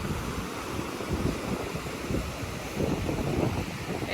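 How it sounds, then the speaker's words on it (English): Gusty wind on top of a soda dam in the Jemez buffets the microphone in loud, uneven rushes, with a steady windy roar underneath. "It's a little windy up here."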